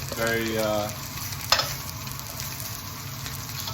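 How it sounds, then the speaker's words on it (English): Onions sizzle in a hot pan with an even, steady frying hiss, briefly stirred with a soft scrape and one sharp clink partway through, close up with no voices. "move those onions around a little bit in the pan over time and just watch those things brown"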